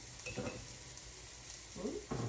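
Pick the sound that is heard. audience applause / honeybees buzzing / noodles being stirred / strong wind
noodles being stirred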